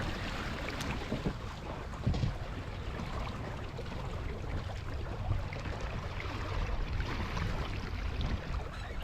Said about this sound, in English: Downwind sailing on a day like today with 10 knots of breeze, no real waves, is complete and total bliss.